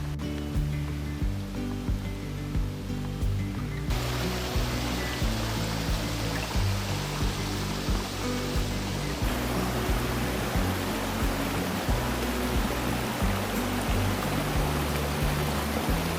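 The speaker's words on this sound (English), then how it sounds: "we found this wonderful little waterfall, swimming hole kind of area right next to a nice, cool little bridge" A small waterfall at a swimming hole beside a bridge rushes steadily into a stream at Buzzard's Roost, North Carolina, a continuous broad splashing roar that swells louder partway through and stays close.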